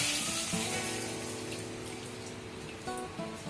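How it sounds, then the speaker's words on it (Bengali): Water is poured into a cooking pot of hilsa fish and eggplant, a continuous close splashing stream over soft background music, with a brief surge near the end. "এবারে দিয়ে দিচ্ছি জল"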